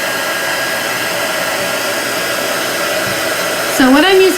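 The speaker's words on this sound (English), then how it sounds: "So what I'm using to dry this is a heat tool." A handheld craft heat tool drying chalk paint on a Halloween craft sign blows with a loud, steady whirring roar, then shifts pitch near the end as something else sounds over it.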